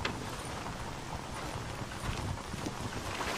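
Horse hooves clip-clop in the Red Dead Redemption video game, a faint, steady, continuous patter over a noisy wind-like background, with no voices.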